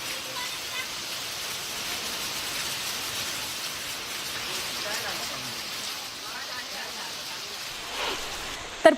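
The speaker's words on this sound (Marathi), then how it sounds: "पालघरमध्ये पण मुसळधार पाऊस पडतोय।" Heavy monsoon rain pours over Palghar in Maharashtra as a steady, loud, unbroken hiss that runs throughout, with a brief knock just at the end.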